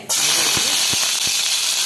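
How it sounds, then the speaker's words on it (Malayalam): Mustard seeds spluttering in hot coconut oil for rasam tempering: a loud, steady sizzling hiss close by, broken by a few distinct pops. "കുറച്ച് കടുക് കടുക് പൊട്ടിയിട്ടുണ്ടേ"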